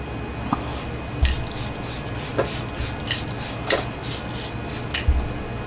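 A fine-mist spray bottle on its first use spritzes in a series of short, regular bursts, each a soft hissing puff close by, with brief pauses and faint clicks of the trigger between them.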